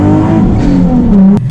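Nissan 370Z engine revving hard, a loud, close, throaty drone holding high revs and shifting pitch, then cutting off abruptly near the end.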